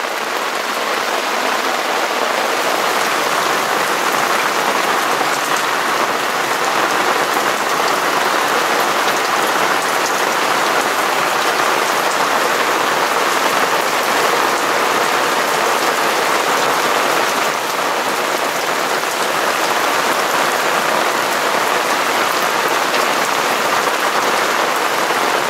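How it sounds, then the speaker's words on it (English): Rain falls steadily on a boat at anchor, a dense, even hiss of drops on surfaces that stays loud and constant throughout, with no voices. "As we're getting a little bit of rain."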